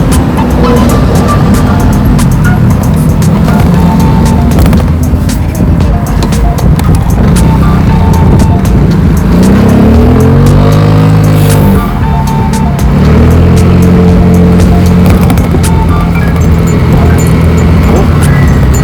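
Loud, busy street traffic full of motorcycles, engines revving and passing close by, a constant roar with rising and falling motor whines.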